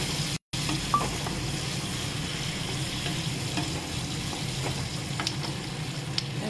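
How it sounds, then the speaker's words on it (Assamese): Onion and capsicum stir-fried in melted butter sizzle and crackle steadily in a pan, with a constant close frying hiss and occasional sharper pops, heard alone without talk. "বাটাৰখিনি ভালকৈ গলাৰ পাছত পিঁয়াজ আৰু কেপচিখিনি লৰাই ল'ব লাগিব"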